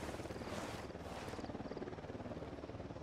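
A helicopter in Ghost Recon Wildlands thrums with a steady rhythmic rotor chop, faint and distant, continuing without talk.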